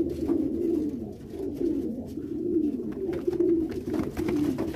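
Meat pigeons cooing inside their loft, a steady chorus of overlapping, close, throaty coos that rise and fall continuously with no talking.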